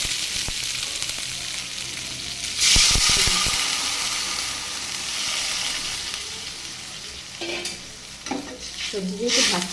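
Elephant foot yam and bottle gourd stems sizzle in hot oil in a pan, a steady frying hiss broken by scraping stirs, with a louder burst of sizzle partway through and spoon clatter near the end.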